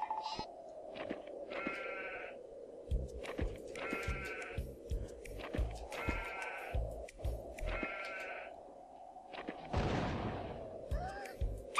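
Cartoonish sheep bleat repeatedly in the video game Worms 3D, several wavering baas recurring over a droning background, with thumping rhythmic game sounds and a burst of noise near the end.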